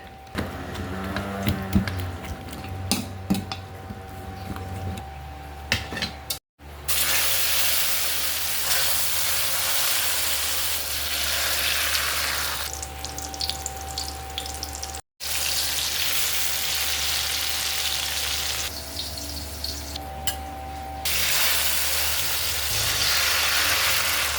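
A pan of food fries over heat in a simple provincial Filipino kitchen, a loud, close, steady sizzle and hiss that runs on throughout, cut by two brief dropouts.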